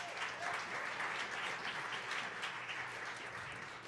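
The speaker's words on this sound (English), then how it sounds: "And I think that's worth a round of applause." An audience at a student jazz combo concert applauds, a dense, steady wash of many hands clapping throughout, slightly fading toward the end.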